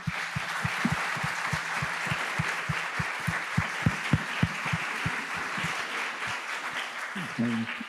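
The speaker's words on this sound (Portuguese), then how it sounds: "acho que merecem uma salva de palmas os voluntários, não é mesmo?" Volunteers at an event receive a steady round of applause from the audience, a dense wash of clapping with a few sharper individual claps standing out, continuing evenly for several seconds.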